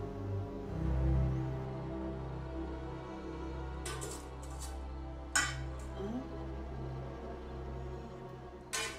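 Metal utensils and dishes clinking in a home, a few sharp separate clanks spaced over several seconds against a low steady hum, fairly quiet and with no talk.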